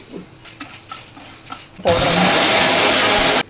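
A mixer grinder whirs loudly and steadily as it grinds lightly roasted dried red chillies, urad dal, chana dal, coriander seeds and garlic into powder, starting abruptly after quiet kitchen clatter and running in one continuous burst.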